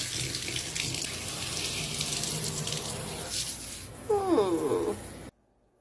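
Water running from a tap into a sink while thimbleberry dye is rinsed from hair, a steady splashing hiss that continues throughout, with a brief clear higher-pitched squeak or sound near the end before it stops.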